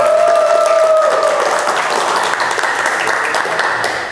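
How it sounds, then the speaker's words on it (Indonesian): Classroom applause from a group of automotive engineering students fills the room, steady dense clapping throughout with a faint tonal hum at the start. "Tepuk tangan."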